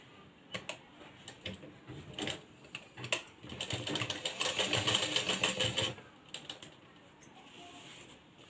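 A sewing machine stitches piping onto a blouse neckline, running in short bursts and then one longer steady stretch of fast, close mechanical whirring and ticking before stopping.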